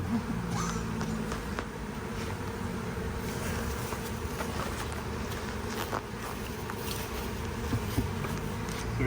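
Honey bees hum around an open beehive as it is inspected, a steady close buzz with individual insects passing near, faint handling noises beneath.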